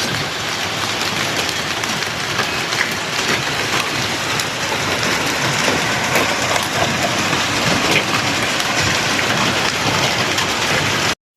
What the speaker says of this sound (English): residents sought refuge from the risk of being hit by the falling hail